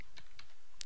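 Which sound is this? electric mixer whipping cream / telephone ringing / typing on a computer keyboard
typing on a computer keyboard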